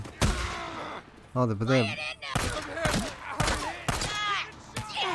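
Gunfire in the video game Days Gone: a series of sharp, loud shots cracking out in bursts between excited voices talking over the action.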